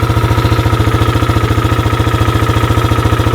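A cheap used ATV engine runs at a loud, steady idle close by, with a fast, even, throbbing pulse and no speech.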